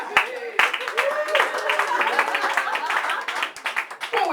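Comedy club audience in Scotland clapping and cheering loudly on cue, dense sharp claps mixed with whoops and shouts, fading slightly toward the end.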